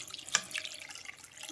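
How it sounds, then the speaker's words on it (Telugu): Cold tap water poured over freshly drained pasta in a kitchen, a brief, soft running splash with a few sharper drips, close by and alone. "వడగట్టేసుకొని చల్లటి వాటర్ వేసుకుందామండి దానిపైన"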